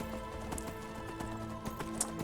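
A horse gallops in a video game, its hooves pounding in a steady, fast rhythm over a continuous game soundscape, close and fairly loud with no speech.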